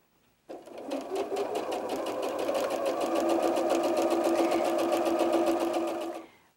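Sewing machine chain piecing fabric squares, starting abruptly and running in one steady, fast, close rhythmic hum of needle strokes for about six seconds before stopping.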